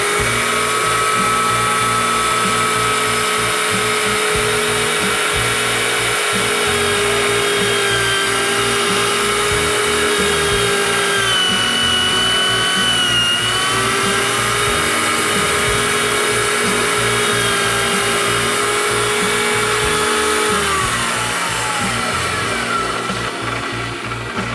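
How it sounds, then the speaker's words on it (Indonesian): A power drill boring into a coconut shell ring, a steady loud whirring drone with a shifting pitch that runs continuously and close up, with no talking. "Selanjutnya kita bor sini."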